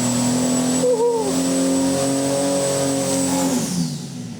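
A turbocharged Ford 300 inline-six on a dynamometer holds a loud, steady high-rpm roar with a rising whine, then eases off near the end under a full-throttle pull.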